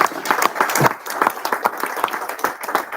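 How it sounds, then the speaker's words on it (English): An audience at a business-house launch event in Amsterdam breaks into brisk, dense clapping, close and fairly loud, sustained for the whole few seconds. "A big round of applause for Prachi for her relentless efforts."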